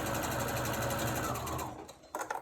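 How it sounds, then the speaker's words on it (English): A sewing machine stitches a seam on a wolf mask in a fast, even run of close mechanical whirring that winds down and stops, followed by a few light clicks and handling noises. "now we're just going to stitch the seam so that it lays open"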